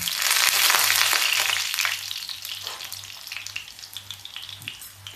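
Mathri pastries frying in oil in a pan, a loud steady sizzle that gradually fades softer, with a faint low hum beneath and light scraping as they are turned.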